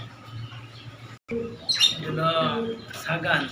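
Racing pigeons chirp and warble close by in short bursts over soft background noise, with a brief silent gap early on; sounds like pigeons fluttering and calling.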